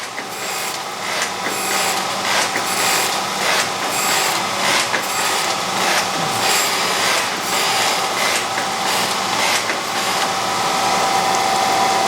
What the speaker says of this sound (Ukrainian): шліфовка плити. Е, нижньої плити маслонасоса